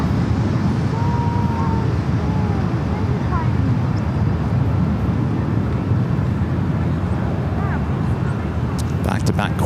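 Corporate jets at LAX make a steady, loud, broadband roar that holds for the whole stretch, with faint radio-like voices underneath.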